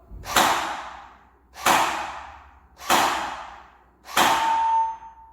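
Four shots hit a target at steady intervals during a shooting exercise, each a crisp crack with a short ringing tail, close and fairly loud with quiet gaps between.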